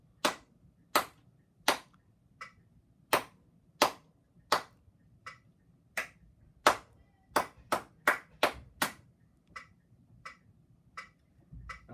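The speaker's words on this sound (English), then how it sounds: "Now clapping it." Hands clap a rhythm in a clarinet warm-up lesson, about sixteen crisp claps spaced unevenly, with a quick cluster near the middle, alone in a quiet room.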